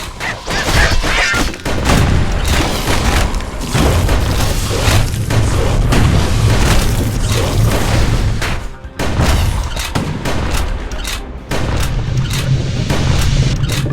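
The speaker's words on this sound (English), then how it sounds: "Security skiffs keep on coming, starboard side. Don't seem to care what they shoot, as long as they hit something." Gunfire from security skiffs and repeated explosions in the video game Bastion, a dense, loud barrage of booms and crashes with near-continuous impacts and a low rumble throughout, no speech.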